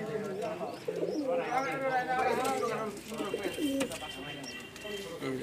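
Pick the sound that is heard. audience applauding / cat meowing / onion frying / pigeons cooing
pigeons cooing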